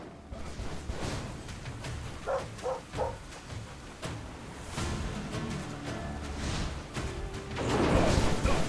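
A dog in the fantasy video game Stoneshard barks and yips in a few short bursts, mixed with swishing combat effects and game ambience.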